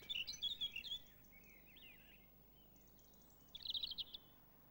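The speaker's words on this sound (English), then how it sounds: "Robins will even sing after dark by lamplight." Robin singing, two separate phrases of high, thin warbling trills, one at the start and another a few seconds later, quiet and clear with a soft, faint background between them.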